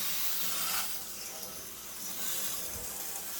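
Coil cleaner sprayed from the top down onto a dirty heat pump coil, a steady close hiss of aerosol spray that swells and fades over a few seconds with no talking.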